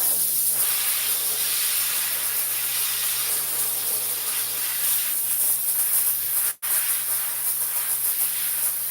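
A garment steamer hisses steadily as it steams a hat, a continuous broadband jet of vapor close by that runs for nearly nine seconds with only a single momentary cutout near the end.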